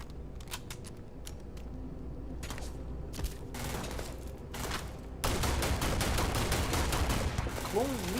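Rapid bursts of gunfire in the space game Starfield, sharp repeated shots and clattering volleys that grow louder and denser toward the end, joined by a brief warbling electronic tone.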